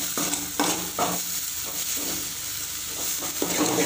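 Eggs with drumstick leaves are sautéed in a pan: a steady close sizzle of frying is broken by repeated scraping strokes of a spatula stirring the mix against the metal.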